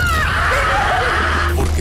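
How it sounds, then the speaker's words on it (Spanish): A loud, sustained scream used as a horror sound effect, wavering in pitch for nearly two seconds over a constant low rumble. "Gritos."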